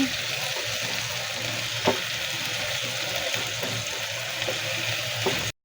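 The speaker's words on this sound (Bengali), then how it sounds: "দিয়ে আরেকটু নেড়ে চেড়ে মিশিয়ে নেব ধনিয়া পাতাগুলো" Chopped coriander leaves are stirred into chicken chaap frying in a pan: a continuous close sizzle with soft scraping and an occasional light clink of the spoon.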